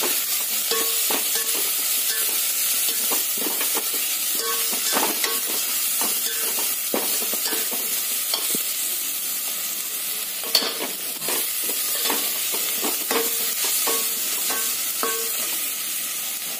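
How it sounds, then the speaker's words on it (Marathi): Fried onions get stirred in an oily pan for chicken biryani, a steady bright sizzle overlaid with repeated sharp spoon clinks and scrapes against the pan, loud and close, with no voices. "त्याच्यामध्ये थोडंसं तळलेला कांदा घालत आहे मी या ठिकाणी. हलवून घेणार आहोत आपण हे."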